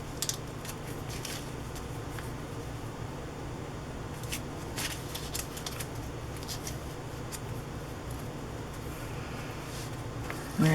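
Small snips and crisp crunches of scissors cutting paper for a glue book collage repeat irregularly and close up, steady and fairly quiet, with no talking.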